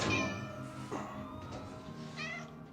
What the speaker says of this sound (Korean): 파이프 안에서 새끼 고양이를 발견합니다